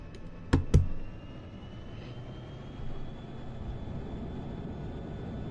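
A propeller aircraft taking off in Microsoft Flight Simulator hums as a steady, moderate engine drone, broken early on by two sharp clicks.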